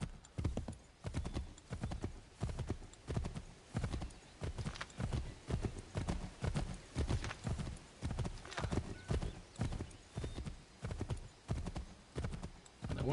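A horse gallops in Assassin's Creed III Remastered, rapid rhythmic hoofbeats thudding steadily and close for the whole stretch, with no talk over them.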